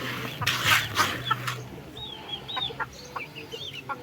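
Free-range hens and a rooster cluck and squawk close by, a burst of louder flapping and calls at first, then softer scattered clucks and chirps continuing, with no voices.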